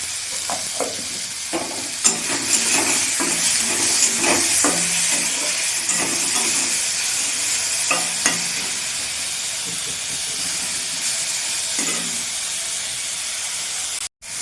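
Green tomatoes sizzle and fry steadily in a pan, with a continuous hiss broken by repeated scraping stirs of a spoon, close and prominent with no talk.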